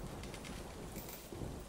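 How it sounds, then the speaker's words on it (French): Coins showering down in the Coin Pusher Casino video game, a dense steady rattling hiss of many falling tokens that keeps up throughout, fairly quiet, with no talking. "Ouais, encore une pluie de jetons."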